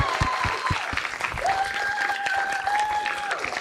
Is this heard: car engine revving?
no